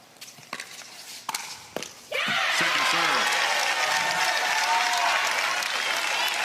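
Crowd applause at a professional pickleball match venue breaks out after a few sharp paddle hits and bounces, then holds as loud, sustained clapping and cheering with a commentator talking over it.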